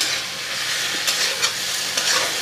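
Red amaranth stalks frying in a pan with cumin and garam masala, a steady loud sizzle with occasional scraping stir strokes, with no talking.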